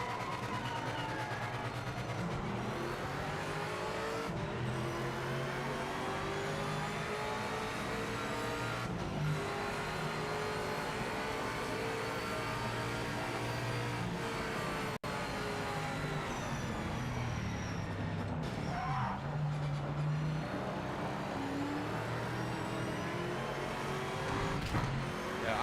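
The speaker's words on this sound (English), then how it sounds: "Rev the nuts off it, and away we go." A race car engine in the racing game Project Motor Racing revs hard and accelerates through repeated gear shifts, a loud continuous drone rising and falling in pitch over several laps' worth of driving.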